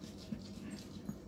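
Excited dog whimpering indoors in repeated soft, high whines and little yips, faint and close, over a steady low background hum.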